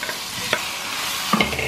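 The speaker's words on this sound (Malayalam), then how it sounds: "അപ്പം ഞാൻ ഇതിൻ്റെ അടപ്പൊന്ന് മാറ്റിയിട്ട് ഒന്ന് ഇളക്കി കൊടുക്കാം" Vegetable kurma gets stirred in a pan with the lid off, a short close burst of scraping and gentle sizzling with a couple of brief clinks of the spoon.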